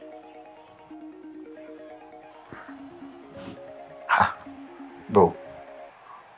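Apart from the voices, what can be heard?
phone ringing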